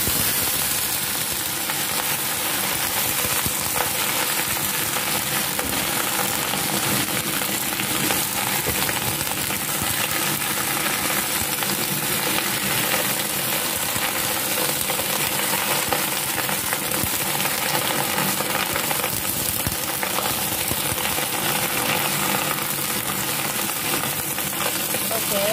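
Napa cabbage hits a hot pan already fragrant with garlic and ginger, giving a steady, dense sizzle and hiss of stir-frying that holds evenly throughout, with occasional clinks of a utensil and faint speech in the background.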